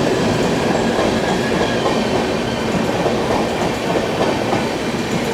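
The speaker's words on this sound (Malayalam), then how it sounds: "പ്ലാറ്റ്ഫോം നമ്പർ 1 ഏതോ വണ്ടി കയറി വരുന്നുണ്ട്" The Pune–Ernakulam Superfast train rolls into platform 1 of an Indian railway station with a loud, continuous rumble of wheels and carriages, close and steady, without speech.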